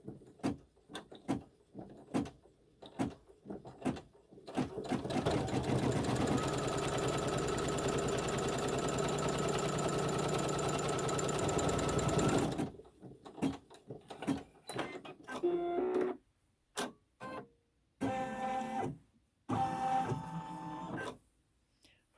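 A sewing machine stitches a quilt block seam, running in one continuous loud whir for several seconds after a series of separate clicks and taps, then more scattered knocks and handling noises afterward.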